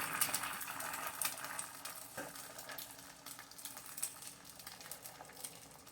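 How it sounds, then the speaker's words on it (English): Two eggs frying in a well-greased pan of bacon fat, a steady close sizzle and crackle with small pops running the whole time. "So we'll just put 2 fried eggs, 2 eggs,"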